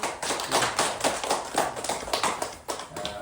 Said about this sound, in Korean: 다 함께 박수.